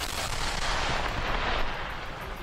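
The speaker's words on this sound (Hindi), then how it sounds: "जैसे ही उन सभी बमों को धमाके में उड़ाया गया, वहां धूल का गुबार छा गया।" Controlled detonation of collected unexploded Russian bombs in a large pit, a deep, rumbling blast roar that stays broad and heavy for a couple of seconds before easing slightly.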